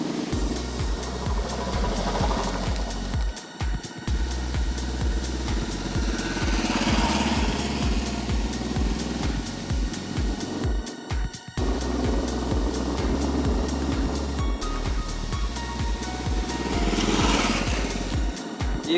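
A Royal Enfield Bullet X 350 motorcycle engine thumps steadily while riding, a deep, loud, close single-cylinder beat with brief dips and swells as the throttle changes and wind rushes past.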